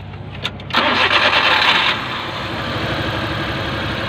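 A car engine cranks briefly and catches, then settles into a steady idle during an ignition coil test, loud and close, with no talk over it.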